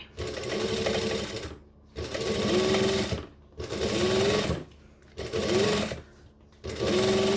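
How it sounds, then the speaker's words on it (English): A sewing machine stitches a panel in five loud sustained bursts, each running about a second with a steady mechanical whir, separated by short pauses. "this much stitching is necessary before you ask"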